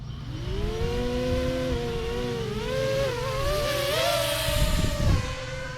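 An FPV quadcopter on 2-blade APC 5x5 props buzzes continuously overhead, its whining motor pitch rising and falling as it speeds up and turns, loud and close throughout.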